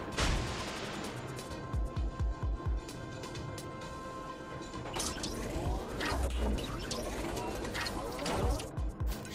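Warship guns fire heavy booming salvos in the naval video game World of Warships Legends during the Planet Clash event: a burst of deep thumps early on, then a louder rumbling volley midway, all over constant game music and ambience.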